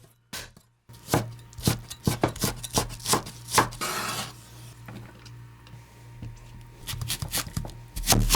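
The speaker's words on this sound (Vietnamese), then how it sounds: "Hành tím này mình cũng băm nhỏ luôn." A knife minces shallots rapidly on a wooden board in bursts, sharp close taps with a brief scraping pause before the chopping resumes.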